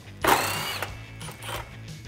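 A ratchet loosens a 10 mm bolt holding the air intake on a 2006 Mustang GT, giving a quick burst of clicking pawl strokes followed by a few softer ratcheting passes, close up and quiet.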